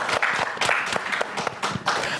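An audience claps at a crossword-themed evening event in Gomel, loud and close, with distinct bursts of clapping that pulse unevenly rather than forming a smooth wash.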